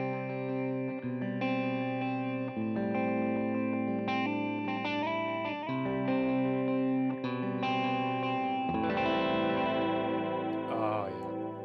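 Electric guitar played with a clean tone through effects pedals into a clean amp, sustained chords and single notes ringing with chorus shimmer and echo, loud and continuous with no talking.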